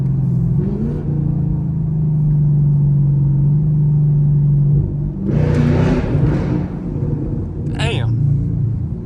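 Camaro SS V8 rumbles steadily while driving at night, with a couple of bursts of crackling exhaust pops toward the end, someone talking over the engine noise.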